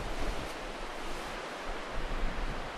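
Steady broadband wash of waves rolling onto the coast near Port MacDonald, a continuous close roar with slight surges and no voices.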